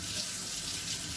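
Tap water runs steadily into a bath as it warms up, a continuous hissing splash close by with no talk over it.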